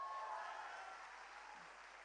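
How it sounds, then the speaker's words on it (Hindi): An audience at a business success workshop in Chandigarh gives faint, distant applause. It is a continuous, even wash of clapping that slowly tapers off, with no voices over it. "एक बार चंडीगढ़ के लिए तालियां"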